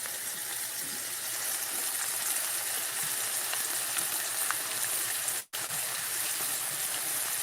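Potatoes fry in a pan for a country breakfast, giving a continuous, even hiss and crackle of hot oil, close and steady with a brief cut near the end, without talk.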